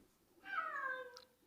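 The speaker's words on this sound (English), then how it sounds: "That was my cat. He agrees." A single drawn-out cat meow, fairly faint and close, rising then falling over about a second in an otherwise quiet room.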